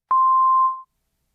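A single synthesized pure sine tone, one of the components modelling a bell, sounds as a clean steady beep for under a second, then cuts off into silence.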